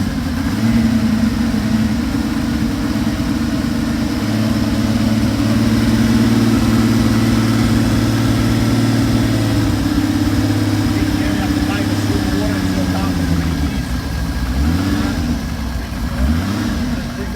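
A car engine running on E85 fuel drones loudly and steadily at idle with slight rises in revs, a deep continuous rumble, while people talk over it nearby.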